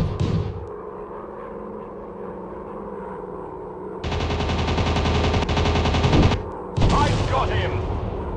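Machine guns on a WW2 fighter plane in a mobile dogfight game, firing in loud sustained bursts over a steady droning engine, with a short pause between the main volleys.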